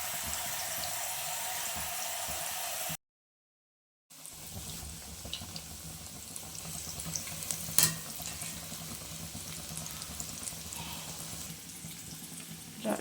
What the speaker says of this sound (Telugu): ఇక్కడైతే అన్నీ కూడా డీప్ ఫ్రై అవుతున్నాయి